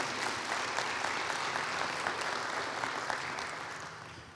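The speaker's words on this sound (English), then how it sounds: "Let's give them a round of applause for all they do in Clayton County." An audience at a county State of the County address claps steadily, a dense, sustained round of applause from a large crowd that gradually fades near the end.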